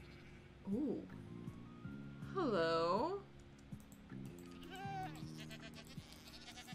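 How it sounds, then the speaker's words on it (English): Goats in Minecraft, from the 1.17 Caves and Cliffs update: a few wavering bleats, one long and loud near the middle, with clicks, a soft game background and brief spoken remarks between the calls. "You are now surrounded by goats. A bunch of goats. At least one of them will probably be a screaming goat."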